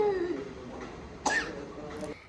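A child gives a single short, sharp cough midway through, fairly close, over a soft murmuring background with faint voice-like tones.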